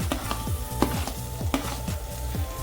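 Finely chopped tomatoes go into a pan of frying red chilli, turmeric and coriander powder for a potato and capsicum sabzi, a close sizzle paced by regular scraping stirs.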